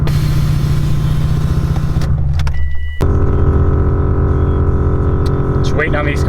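Air suspension compressors on a Mitsubishi Evo X run with a loud, steady droning hum that cuts out briefly near the middle and then resumes, heard close with no talk.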